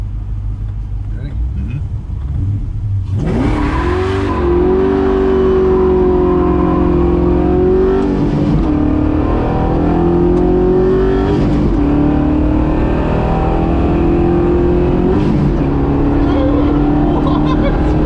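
A classic Plymouth Roadrunner fires up loud and close, then its engine revs repeatedly in rising and falling surges over a heavy rumbling idle, with people talking faintly in the background.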